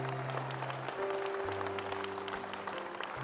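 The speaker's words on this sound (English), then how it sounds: "You can give the Lord a hand clap of praise." Congregation clapping in praise during a Sunday morning church worship service, a soft continuous patter of hands under sustained organ or keyboard tones, fairly faint and distant.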